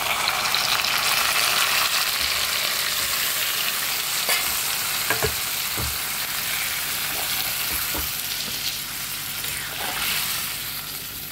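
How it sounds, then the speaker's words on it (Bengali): Chicken coated in masala with lightly fried onion and chilli powder sizzles loudly in a kadai, a dense, steady frying hiss broken by a few soft scrapes and knocks of stirring, close and with no talk. "তো চলো এই মশলাটা ধরে চিকেন সমেত আমি কড়াইতে দিয়ে দিলাম।"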